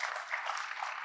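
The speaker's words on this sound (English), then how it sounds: "can we have applause for Karthik and Arpita?" An audience at an ACM India annual event claps steadily for about a second, a dense spread of hand claps that sounds moderately distant with no clear break.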